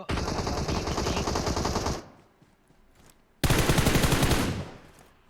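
Rapid automatic rifle fire from M762 and M416 rifles in PUBG Mobile on the Sanhok map, two loud sustained bursts separated by a short lull, with no talk.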